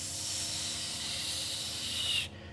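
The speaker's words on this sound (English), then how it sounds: "as steam starts to come from both of his hands as he's holding it" Steady, loud hissing of steam rising from hands gripping a black crystal, a continuous broad hiss that holds evenly and then cuts off abruptly near the end.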